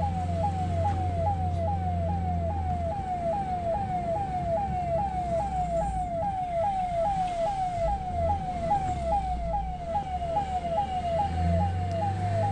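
An ambulance siren on a road in Bantwal, Dakshina Kannada, wailing in a fast repeating up-and-down pattern over steady traffic and engine rumble, loud and continuous throughout.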